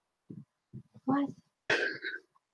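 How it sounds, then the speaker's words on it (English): Several short, close coughs and throat-clearing bursts come from one person during a conversation about designing a GTO in GIMP. "Every 10 seconds, you cough."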